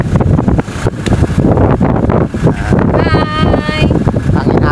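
Wind blowing through Bantayan Park in Bago City, Negros Occidental, Philippines, a loud continuous rush and buffeting on the microphone, with voices briefly audible amid the gusts.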